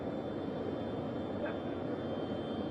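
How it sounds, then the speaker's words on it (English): Jet aircraft engine at Kennedy Space Center, a steady broad roaring hum that stays constant and fairly loud throughout, with no break or change in pitch. "can y'all hear me over the jet?"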